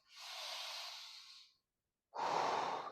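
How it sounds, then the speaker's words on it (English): A person holding a deep squat takes slow, deep breaths: one long hissing exhale, a short pause, then a sharp, loud inhale, close and with no talking. "I want you to take a few nice deep breaths"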